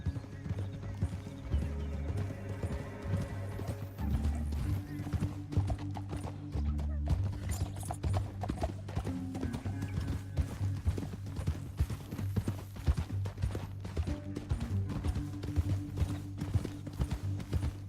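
Horses gallop in Red Dead Redemption 2, a rapid, continuous clip-clop of hooves on open ground, with an occasional whinny, over a steady low music drone and brief voices.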